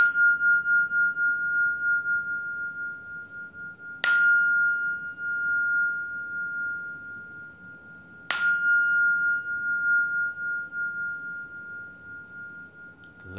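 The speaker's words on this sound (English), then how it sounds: "I'll sound the bell" A meditation bell struck three times at slow, even intervals, each clear ringing tone swelling and fading into a long sustained hum before the next strike, heard alone.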